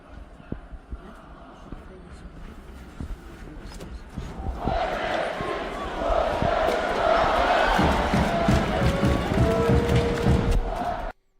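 A large hockey crowd in Minsk Arena swells into sustained cheering and roaring, heard from a VIP box. The sound starts as a quieter murmur with scattered thumps, then grows loud and dense before cutting off abruptly.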